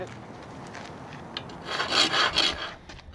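A storm drain lid being dragged back into place on its metal frame, a gritty scraping rasp that swells into two or three louder, close scrapes near the end with no voices.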